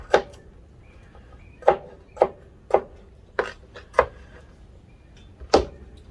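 A knife chops potatoes sharply on a cutting board, about seven separate hard strikes at uneven intervals, close and distinct against a quiet background.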